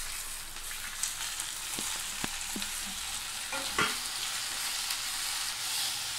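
Thinly sliced ivy gourd fries in a pan with a steady close sizzle, broken by several scraping and tapping stirs from a spoon against the pan.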